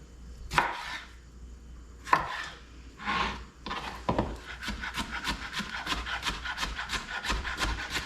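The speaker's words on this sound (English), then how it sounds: "So I'm chopping everything pretty small because you got to pick it up with a chip." A knife chops ingredients for a pickle-juice dip on a wooden board in an Alaska homestead kitchen. A few loud separate chops are followed by a fast, steady run of close, rhythmic cuts.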